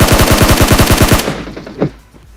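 Rapid machine gun fire in a video game, a loud dense burst of closely spaced shots lasting about a second, then a brief fading tail and one softer thud.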